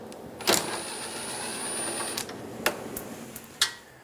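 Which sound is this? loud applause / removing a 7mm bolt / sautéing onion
removing a 7mm bolt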